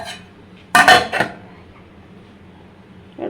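A metal lid set onto a pot of koi fish steaming in bottle gourd leaves, one sharp clattering clank followed by a lighter rattle, then a quiet hiss before a faint later knock.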